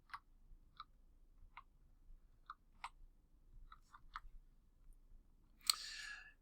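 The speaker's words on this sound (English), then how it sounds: "So I'll click my mouse here." Quiet computer mouse clicks on a desk, about nine sharp, separate clicks spaced irregularly over several seconds, ending in a slightly louder, harsher click or rustle.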